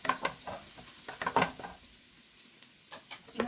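Garlic browning in a pan for chicken arroz caldo, with soft sizzling and a few light stirring scrapes and clicks, quiet and close with no talking.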